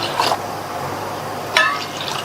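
Water poured into ground powder in a pot while making kurma: two short splashing pours, the second stronger, over a steady quiet background.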